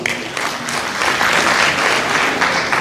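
Graduation ceremony audience clapping, dense and loud, building slightly and holding steady for about three seconds.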